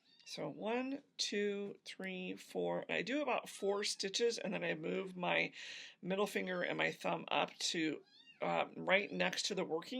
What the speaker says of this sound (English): Sorry for the baby kitty making noise.